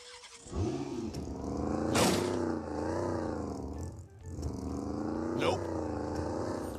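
Engine of a car in a multiplayer shooter game revving and droning steadily, rising and falling in pitch with two sharp surges, loud and continuous beneath a talking voice.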